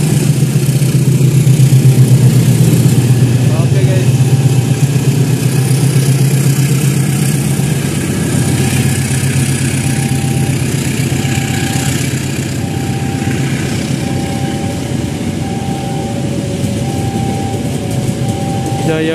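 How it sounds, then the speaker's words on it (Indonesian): The Jayabaya passenger train, hauled by a CC206 diesel locomotive, departs a busy station with a loud, steady engine drone and rumbling cars rolling close by throughout, the tone shifting slightly as it pulls away. "Jayabaya relasi Pasar Senen Surabaya Pasar Turi dengan lokomotif CC206."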